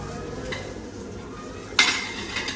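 Dishes and spoons clink and scrape in a home kitchen over a low background hum, with one sharper clatter standing out near the end.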